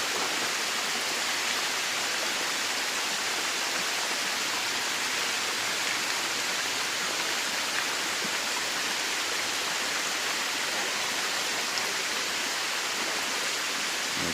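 Harbiye waterfall pours into a pond, a constant broadband rush of falling water, steady and fairly loud throughout with no voices.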